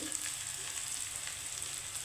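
Spices and two dried red chillies frying in a little hot oil give a steady, close crackling sizzle that runs without a break. No one speaks.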